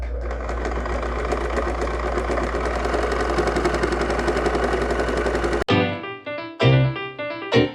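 A sewing machine runs a steady backstitch on a fabric vaccination card cover, its fast close mechanical whir continuous for several seconds, then stopping and giving way to brief clicks and fabric handling.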